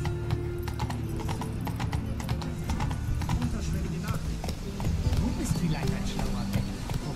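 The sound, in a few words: horse galloping in video game Witcher 3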